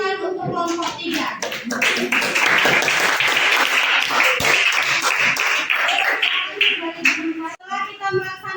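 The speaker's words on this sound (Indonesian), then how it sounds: "Berikan tepuk tangan untuk kelompok 3." A classroom of students claps for a presenting group in a brisk burst lasting several seconds, with a speaking voice before and after the clapping.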